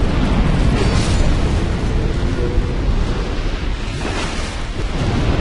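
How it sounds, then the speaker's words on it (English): Roaring fire in Dark Souls 2, a dense, continuous rumble and crackle. It holds steady and loud from start to end with no voices over it. "It's only fire!"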